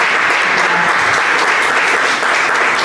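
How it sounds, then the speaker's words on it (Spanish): Audience applause fills a theatre gathering honouring an actress, a dense, steady wash of many hands clapping at full volume for the whole stretch with no pauses. "Vamos a aplaudirla"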